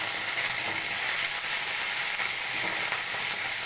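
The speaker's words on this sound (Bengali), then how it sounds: "আদাটা ভাজা হবে।" Ginger paste frying in a pan over lowered gas heat, a dense continuous sizzle with faint stirring scrapes, close and steady throughout.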